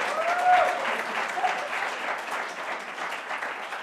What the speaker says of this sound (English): Can I have a round of applause for Lori Lynn Turner at the New School